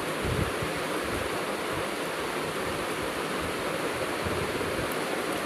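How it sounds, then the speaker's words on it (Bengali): Chopped Malabar spinach frying in a pan, a steady broadband hiss that holds evenly throughout with no talking. "এখন এগুলো ভাজি করব।"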